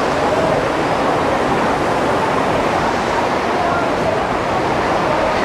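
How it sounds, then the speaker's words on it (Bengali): Kempty Falls, a large waterfall in Mussoorie, Uttarakhand, roars as a loud, dense, constant rush of falling water that fills the whole scene close by. "সব থেকে বড় একটা ওয়াটারফল দেখতেই পাচ্ছেন আমার সামনে, একেই বলছে কেম্পটি ফলস।"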